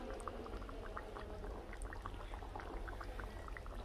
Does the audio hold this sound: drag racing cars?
no